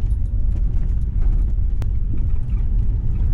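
A Dodge pickup truck with new leaf springs rolls along a bumpy driveway with a steady low rumble, with soft knocks and one sharp clunk as it bumps over uneven ground.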